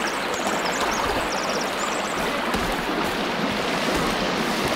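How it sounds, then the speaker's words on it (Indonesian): Loud, steady rushing water from a large river or waterfall in the Sons of the Forest video game, a continuous roar that fills the whole stretch with no talk over it. "Ini suara air gede banget."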